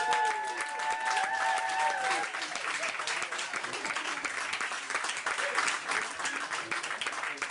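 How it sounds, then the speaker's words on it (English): Audience applause for a comedian at a stand-up comedy show, steady broadband clapping from a crowd that holds for the whole stretch, with a few brief tonal sounds early on. "Give another big round of applause for him."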